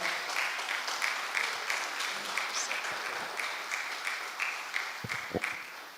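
Hall audience at an annual lecture applauding to welcome a government minister: sustained clapping from many hands, fairly even and moderately loud, with a few close thumps near the end.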